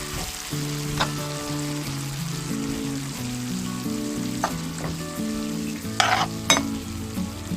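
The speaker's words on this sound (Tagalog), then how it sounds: "ilalagay na natin ang ating brown sugar. Hahaluin ulit." Escabeche sauce sizzles and bubbles in a pan as it is stirred after brown sugar goes in, with a steady frying hiss, a few sharp utensil taps and a soft melodic tune playing underneath.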